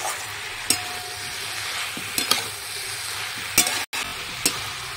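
A spatula scrapes and stirs gourd with small chuna fish and coriander leaves in a pan, with several distinct scraping strokes over a steady sizzle and no talking.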